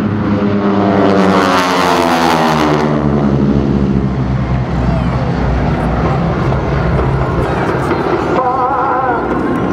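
Aeroshell aerobatic team planes pass overhead in formation at the 2012 MCAS Cherry Point airshow, a loud sustained propeller-engine roar whose pitch sweeps down as they fly by, with crowd noise underneath.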